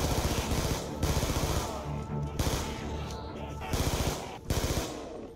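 Rapid automatic gunfire from the Call of Duty Mob of the Dead zombies mode, with sustained bursts of shots cutting in and out over several seconds, loud and close with game sounds underneath.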